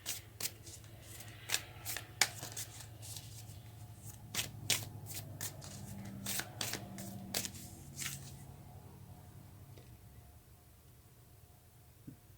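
Tarot cards shuffled for a reading, with crisp, rapid riffles and flicks in bursts for about ten seconds, close and clear, then fading to quiet handling.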